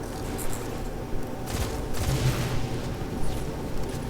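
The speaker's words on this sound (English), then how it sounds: "So now I'm just stuck to take pop shots with a pulse rifle." Gunfire from a pulse rifle in the Destiny 2 video game, loud bursts of shots crackling over a steady background of game ambience and explosions through a boss fight in a Lost Sector.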